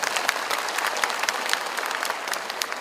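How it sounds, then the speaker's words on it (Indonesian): Dense applause from an audience at an anniversary thanksgiving gathering of an Islamic boarding school for orphans, steady crackling clapping that stays at an even moderate level throughout, with no voices over it. "Kita boleh tepuk tangan."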